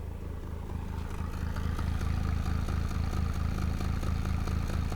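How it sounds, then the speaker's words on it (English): A 1992 Suzuki Cappuccino turbo kei car with a 3-cylinder engine idles low: a steady, lumpy exhaust burble with a regular low pulse, heard close and alone. "you get a little bit of a lumpy sounding exhaust"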